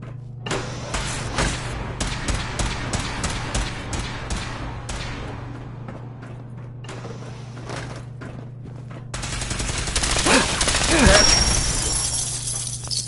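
Gunfire in Fallout 4 crackles in rapid broadband bursts during a combat sequence, with quieter stretches between volleys and a louder rush of noise toward the end, over a steady low game hum.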